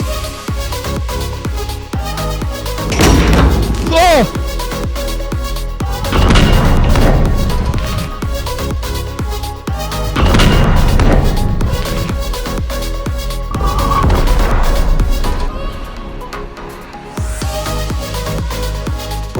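Carbonated drink cans burst one after another inside a giant mouse trap, loud booming blasts repeating every few seconds over a continuous, dense background.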